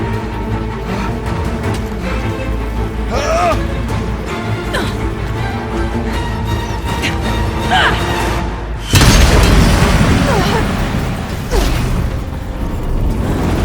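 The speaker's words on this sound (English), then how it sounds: "I need explosive ammo! A bomb!" In Horizon Zero Dawn, an explosive-ammo bomb goes off with a sudden heavy boom and crackling debris that swells over the game's rumbling, mechanical combat ambience, then settles back to a steady din.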